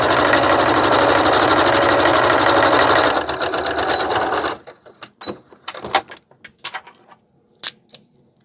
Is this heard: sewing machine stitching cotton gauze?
yes